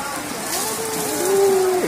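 Rain falls steadily outside a polling station during the 2024 Indonesian general election in Cianjur, a broad close hiss that swells slightly near the end, with a faint tonal whine running through it.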